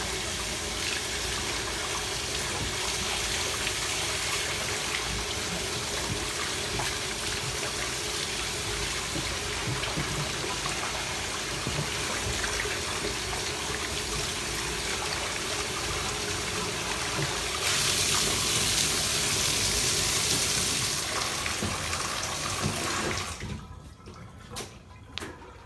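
Pressurized water spraying to rinse a Chevrolet Silverado intake filter, a loud continuous rushing hiss that shifts in intensity before cutting off near the end.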